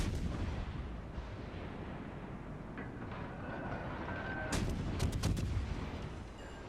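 USS Cleveland cruiser's guns fire in a naval battle in World of Warships Legends, a burst of sharp booming salvos over a steady rumbling battle din, with a brief tone before the volley.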